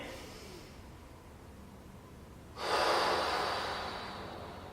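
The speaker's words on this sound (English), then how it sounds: "you're going to breathe in as much air as you can. And then you're going to exhale all you can" Deep inhale then a long, forceful exhale during a pre-respiratory-treatment breathing warm-up, the breath rushing in suddenly after a quiet stretch and fading slowly toward the end, close and alone.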